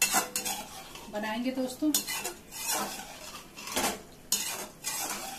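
Chicken with yogurt is stirred and roasted in a kadhai on the stove for kadhai chicken. A metal spoon scrapes and clatters against the pan in repeated bursts over a soft sizzle, with a brief voice heard.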